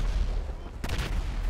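Rapid bursts of GTA V gunfire crackle densely, loud and close, with a sharp burst midway followed by continued rattling shots.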